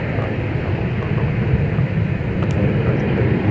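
A United airliner at MSP airport gives a steady, loud broadband jet roar with deep low rumble, constant throughout without a break.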